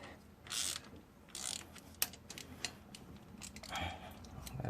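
A ratchet wrench loosens a fastener so the outside shroud can come off a 2006 Cadillac CTS 2.8L engine, giving quick bursts of ratcheting clicks in short runs, close by, with brief pauses and the odd metallic tap between them.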